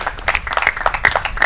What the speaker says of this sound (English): As the crowd rises to their feet to give respect to both of these players